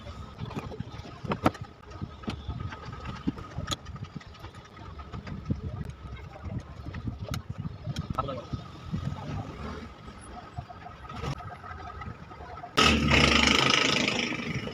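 A Mitsu desk fan with a worn front bushing, its motor humming without turning the blades well, a low steady drone beneath close mechanical knocks and handling noise, then louder whirring near the end.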